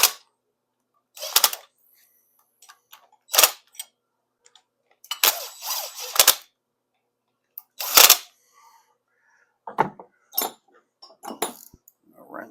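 A wrench snugs up hose fittings during a repair job, giving short, sharp metallic clinks and clanks in scattered bursts separated by silence, close and fairly loud, with no talking.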